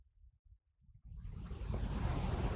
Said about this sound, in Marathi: पाला बघ कसं वाचतोय आता वाऱ्याने